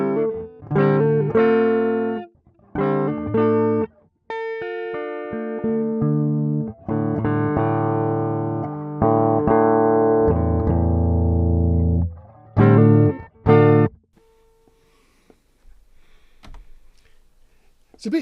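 Line 6 Variax electric guitar on its mellow tone setting playing short chords and a sustained ringing strum in a soft, mellow tone, alone and close, ending in near silence.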